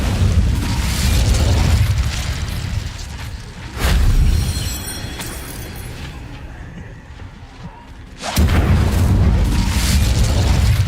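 A fiery Incendio spell blast in the Hogwarts Legacy video game, heard as loud broadband bursts near 4 and 8 seconds over a constant rumbling game backdrop.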